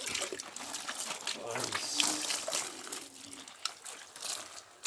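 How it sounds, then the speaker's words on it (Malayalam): Water poured over a pet dog during its bath at home, a soft trickling and splashing running under nearly continuous talk from people nearby. "വെള്ളം ഒഴിക്കണം"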